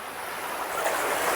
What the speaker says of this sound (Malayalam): വെള്ളത്തിന്റെ സൗണ്ട് ഒഴുക്കൊക്കെ നോക്കി നോക്ക്